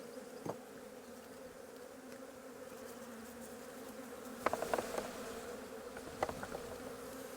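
Honey bees on a hive frame hum in a steady low drone, with a few brief louder buzzes as individual bees pass close.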